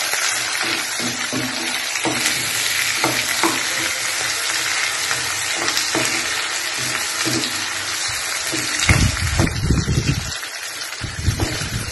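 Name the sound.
prawns sautéing in a pan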